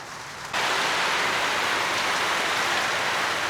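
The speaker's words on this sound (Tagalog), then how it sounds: "Lalo pong lumalakas ang ulan habang tumatagal." After a brief quieter moment, heavy rain suddenly pours down in a dense, loud, continuous hiss that stays constant to the end.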